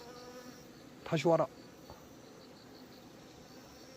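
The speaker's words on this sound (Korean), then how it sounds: "저 장수말벌이다." A giant hornet buzzes near a beehive: one loud, close burst of droning for about half a second, then quiet hum, with a short spoken phrase from a person.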